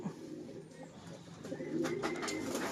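Pigeons coo softly and low, a few murmuring calls rising toward the end over a steady background hum, with no voices.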